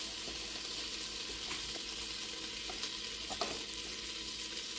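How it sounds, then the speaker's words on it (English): Butter melts in a hot pan with a steady, close sizzle and bright crackle, a few soft utensil taps breaking through the continuous frying hiss. "It's hot, so it's not going to take long for that butter to melt."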